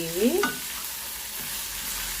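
Chopped tomatoes and green chillies sizzle and fry steadily in a hot pan, a continuous close hiss with a brief voice at the start.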